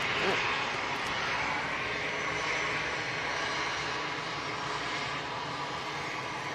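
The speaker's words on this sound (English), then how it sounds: "So Ryanair next, going back to Dublin, it's a 737." A Ryanair Boeing 737 departing for Dublin gives off a continuous, moderately loud jet engine rumble and hiss heard from a distance, steady throughout with faint voices beneath.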